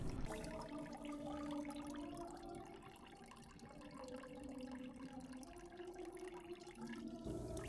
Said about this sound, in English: I'll let the filter run for a while and wait for the water to become clearer